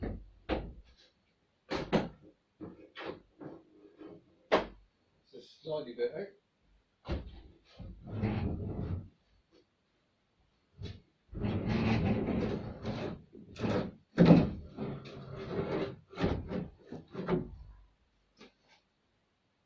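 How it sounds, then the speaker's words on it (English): Clunks, knocks and metallic scraping as a heavy Invacar door is worked loose and removed, with a person briefly talking between the bumps. "Right, so we got the door off"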